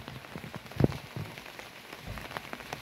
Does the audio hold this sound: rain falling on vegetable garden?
yes